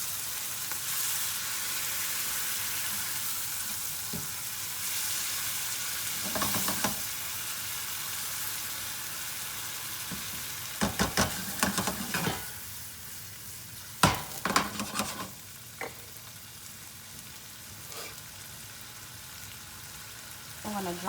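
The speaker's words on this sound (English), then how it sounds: "Now I'm gonna let this cook down just a little bit" Garlic cream sauce simmers and sizzles in a pan, a steady frying hiss running throughout with occasional clinks and scrapes of a utensil stirring, loudest in a few brief bursts near the end.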